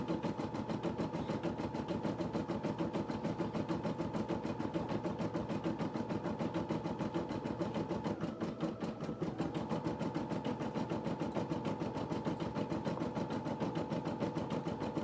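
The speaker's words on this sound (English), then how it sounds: "This machine is stitching out the Faux Smock Flamingo from Marmiebee" Home embroidery machine stitching a faux smock flamingo design, its needle hammering in a fast, steady mechanical rhythm with a constant motor hum, close and continuous throughout with no talk.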